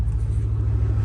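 Ford Mustang GT with a 4.6 V8 and five-speed manual runs at a steady low rumble, a deep continuous engine drone heard briefly from up close.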